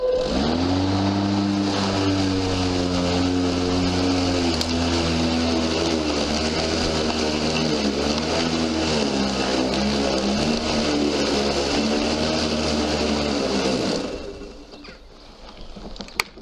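A Makita DLM382Z cordless lawn mower runs close by with a loud, steady motor hum and whine. It holds an even pitch for most of the time, then winds down and stops.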